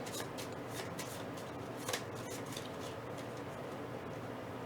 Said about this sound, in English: I'll go ahead and shuffle